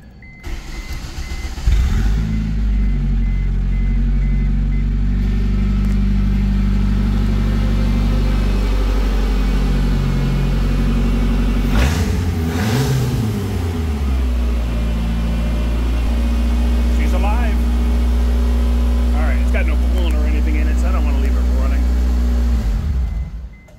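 A 1991 Ford Escort engine runs steadily at idle for over twenty seconds, a loud low rumble with brief shifts in pitch, while people talk intermittently over it.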